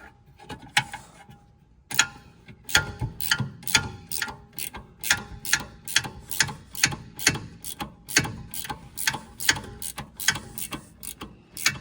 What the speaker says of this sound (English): So I got this little gear wrench I'm going to use.